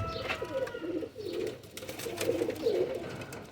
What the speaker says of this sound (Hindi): बहुत ही अच्छा कबूतर है।